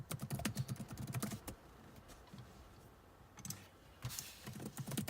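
Someone types a password on a computer keyboard during a Windows 10 sound driver install, with quick bursts of soft key clicks that pause briefly midway and then resume, close and fairly quiet, with no talk.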